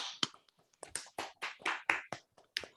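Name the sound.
small audience applause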